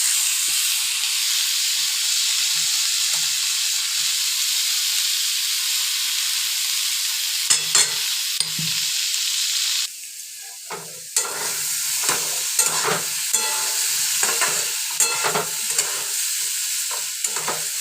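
Potatoes fry in a pan with spices and green chillies, a loud steady hiss and sizzle at first, then repeated clattering stirring strokes over the continuing sizzle.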